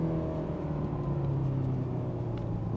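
A Ferrari GTC4Lusso T engine hums and whirs steadily from inside the cabin, with a droning tone that slowly falls in pitch as the car downshifts, sustained and moderately loud.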